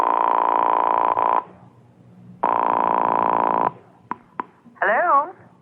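In a radio drama, a telephone line gives two long buzzing tones separated by a pause, then a couple of short clicks, followed by a brief warbling sound as the call is dialed and connects.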